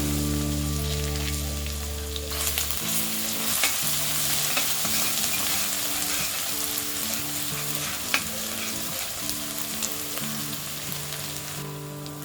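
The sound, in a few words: oil and crushed garlic frying in a kadhai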